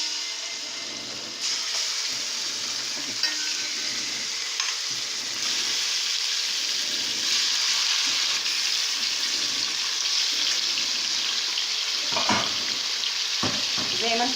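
Meat for kebab halla frying in hot oil or ghee in a pan, a steady close sizzle that runs throughout with a few louder crackles and stirring scrapes near the end.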